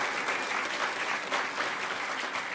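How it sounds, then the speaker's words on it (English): A conference crowd at the Hackers On Planet Earth 2012 closing ceremonies applauds the vendors, a dense, steady wash of clapping held at even loudness throughout, with no talk over it. "Could you get a huge round of applause for all of the vendors who are on the second floor this year?"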